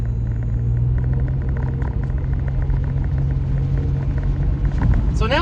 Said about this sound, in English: We're gonna put a little bit of gas here.